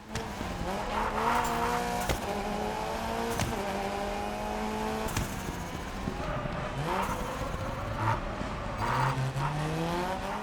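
Rally car engine in the racing video game Gravel, revving steadily through gear changes with tires skidding and squealing on loose surfaces, loud and continuous with no talking.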